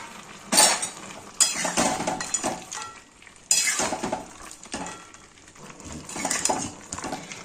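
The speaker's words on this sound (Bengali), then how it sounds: "এবার আমি এই ভেজে রাখা বড়িগুলো এর মধ্যে দিয়ে দেবো।" Fried lentil dumplings (bori) are dropped into a simmering vegetable curry in a pan, with several loud clanks of a metal spoon against the pan amid soft stirring and sizzling.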